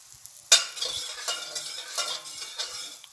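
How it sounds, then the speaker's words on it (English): Broth being stirred into turkey stuffing in a home kitchen for Thanksgiving: a spoon scrapes and swishes through the wet mix in several soft strokes, close by and fairly quiet, with no talking. "I'm going to mix that up."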